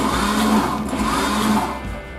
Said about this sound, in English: We're going to put them in our kitchen robot.